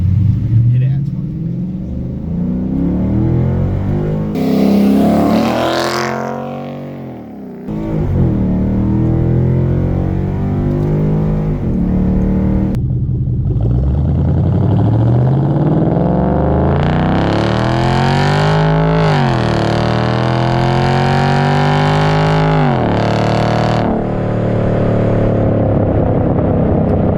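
A Ford Mustang GT V8 runs 0 to 60 with repeated rising engine pulls and gear changes, loud and close inside the car, while people talk over the roar.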